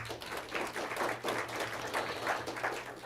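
Audience at a Knowledge Bowl 2023 event gives a short round of applause, faint and somewhat distant, steady clapping with a low hum beneath.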